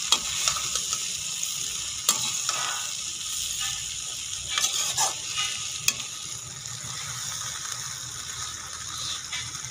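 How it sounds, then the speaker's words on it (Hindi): Okra fries in a kadhai for masala bhindi, giving a steady bright sizzle with occasional spatula scrapes and clicks, close and continuous with no talking. "लेकिन इसको थोड़ी देर फ्राई करें।"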